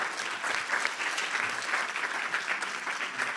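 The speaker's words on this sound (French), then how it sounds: "on peut vous applaudir." Sustained audience applause, a dense even wash of many hands clapping steadily throughout, with no voices standing out.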